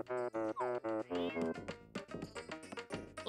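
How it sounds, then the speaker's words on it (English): Cartoonish cats meow repeatedly in Animal Crossing: New Leaf, a quick run of clear, close, pitched meows at first, followed by busier game music and a voice. "why do I hear cats meowing?"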